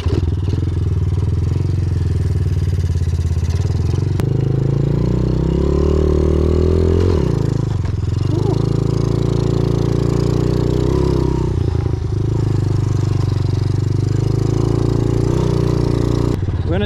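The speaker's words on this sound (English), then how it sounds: "I'm gonna see how it goes on the pit bike" A pit bike engine runs steadily throughout while riding at an abandoned DIY spot, a loud close buzzing drone that rises and dips in pitch as the throttle changes, with brief drops near eight and twelve seconds.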